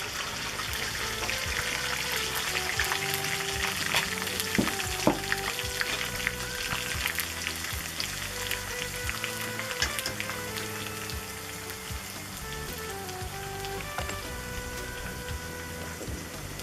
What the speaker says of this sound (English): First, chopped banana flour is deep fried in the coconut oil until the color become brownish.